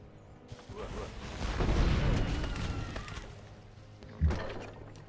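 City bombardment in the Civilization V video game: a rumbling, swelling barrage that builds and fades over several seconds, followed by a single sharper boom near the end.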